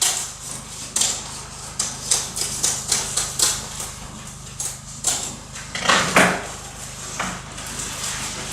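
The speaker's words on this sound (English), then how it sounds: "We cut our mesh." Mesh backing of an electric underfloor heating mat being cut, giving a series of short, crisp snips and clicks close by, irregularly spaced, over a faint steady hum.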